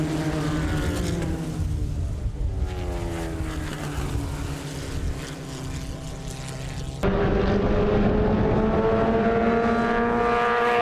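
Excel national series race cars thundering past in a pack on a circuit, several engines blaring and rising in pitch through the gears, loud and continuous, with a sharper, closer engine note in the final seconds.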